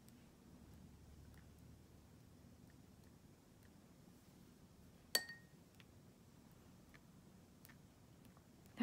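A paintbrush clinking against a glass jar of water while painting coral flowers, a single sharp bright clink after a quiet stretch and another right at the end, faint room hush in between.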